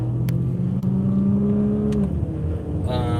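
Car cruising along the road heard from inside, a steady engine and road hum with slight rises in pitch, a couple of faint clicks and no talking.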